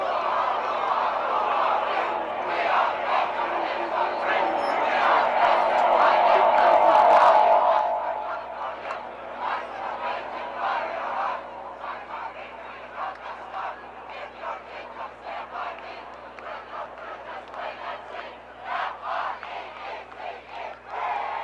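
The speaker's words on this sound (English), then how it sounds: "They are cheering Rose Lemon off." Spectators at the USAFL 2025 Nationals Australian football women's final at Cooper's Field, Minnesota versus Denver, cheer a player off the field. A loud, roaring crowd swell holds for about seven seconds, then drops away to scattered voices and talk.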